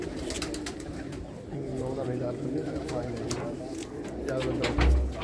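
A domestic pigeon, a Khatian-line bird kept by fanciers, coos softly in low repeated phrases close by, while people talk over it.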